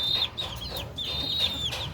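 Hens clucking softly near newly hatched chicks, with high thin peeping from the chicks repeating over a low farmyard background, close and moderately loud.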